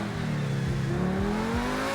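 A video game car engine revs, its droning tone climbing steadily in pitch as it accelerates, loud and continuous with no voices.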